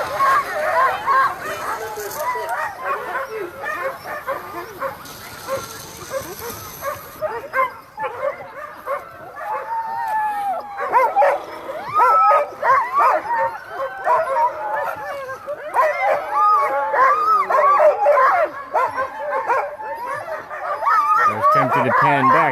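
Sled dogs bark, yip and howl in an excited chorus at the start line of a six-dog sprint race at Chugiak, continuous and loud throughout, with people talking underneath.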